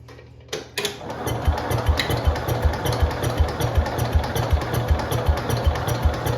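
The single-cylinder engine of a 1971 IH Cub Cadet 126 lawn tractor catches with a sharp pop and then chugs close by in a loud, slightly uneven, steady beat of firing pulses.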